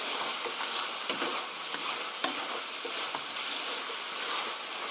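Chicken and cabbage stir-fry tossed and mixed in a hot pan, giving a dense, even hiss of frying with soft scraping and clicks from stirring, moderately loud and continuous without speech.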